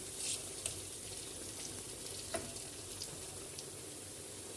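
Pepper paste is stirred into onions and peppers frying in a pan, a soft, steady sizzle with a few faint scrapes and clicks of stirring, close by and alone.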